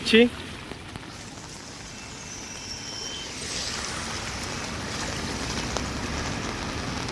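Monsoon rain pours on a jammed road in Vasai-Virar, a broad steady wash of falling water that swells slightly after a brief loud knock at the start, with faint voices mixed in.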